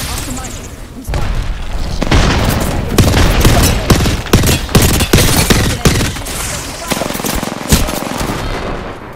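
A grenade blast during an Apex Legends battle royale fight: a heavy thud erupts amid loud, rapid bursts of close automatic gunfire and booming impacts that continue for several seconds.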